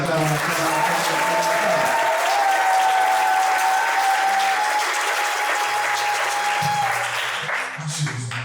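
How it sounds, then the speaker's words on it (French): Sustained applause from a crowd at a wedding ceremony in Libreville fills the room, steady and loud throughout, with music playing softly underneath. "Oh, on acclame."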